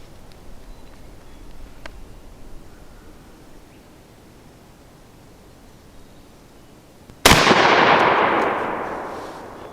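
A Mossberg 935 turkey shotgun fires one loud, close blast at an outdoor range target. The shot comes after several seconds of quiet ambience, then its sharp crack rings out and decays slowly.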